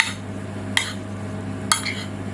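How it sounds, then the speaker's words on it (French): Croziflette ingredients stirred together in a dish with a utensil, a low steady kitchen hum underneath and two brief scraping clinks against the dish standing out, no talking. "On rajoute tout ça. Et on va mélanger."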